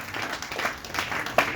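A church congregation claps, with a soft, steady patter of applause that sounds somewhat distant and blends into the room's ambience.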